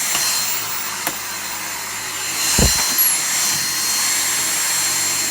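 A Dyson V6 or V7 cordless stick vacuum runs on its low setting with a steady, even whine and hiss. A couple of faint knocks are heard near the machine.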